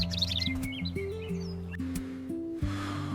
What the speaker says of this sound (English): Listen to the birds. They sound so happy this peaceful morning.